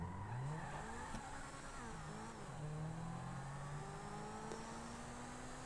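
La Turismo supercar in GTA IV accelerating hard, a steady loud engine note rising and shifting through gears, with faint tire noise underneath and no talking.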